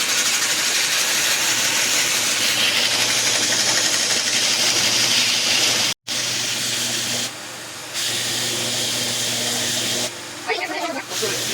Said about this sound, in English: So I'm gonna do that with the belt sander.